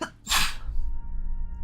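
One sharp, close sneeze bursts out, followed by a low steady background hum.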